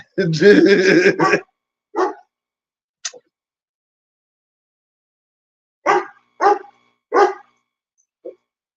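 A dog barks at close range, first a long loud burst of rapid barks, then single sharp barks and short clusters separated by silences.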